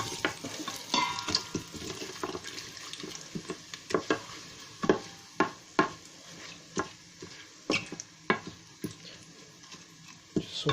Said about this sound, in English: Just saute in the oil